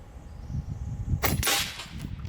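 An Umarex Gauntlet 2 SL30 big-bore side-lever PCP air rifle firing an FX 50.2 grain slug, one sharp crack partway through over a quiet outdoor background.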